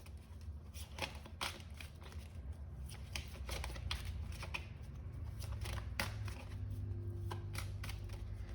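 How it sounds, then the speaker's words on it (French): Cards are drawn and laid out one by one for a card reading, producing quiet, crisp snaps and slides at an irregular pace, close and alone. "Je vais sortir toutes les cartes."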